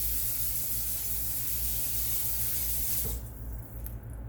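Water running steadily from a tap into a pot while preparing ramen noodles, a continuous hiss that cuts off near the end, leaving quiet room tone.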